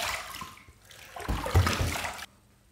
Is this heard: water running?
yes